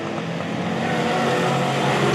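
Modified race cars run a heat race at the Bud Perry Memorial on an oval track, several engines roaring together in a dense, loud wash that swells slightly as the pack closes in.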